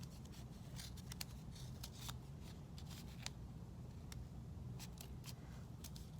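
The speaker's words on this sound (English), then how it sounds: "Now I'm going to follow my pencil lines to cut the design out." Scissors snip through a square of paper to cut out a snowflake design, a run of quiet, close, irregular crisp clicks over faint background hiss.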